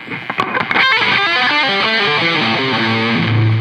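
Distorted electric guitar plays a fast pentatonic run of single notes descending in steps, from a song's solo, loud and close, with no talking.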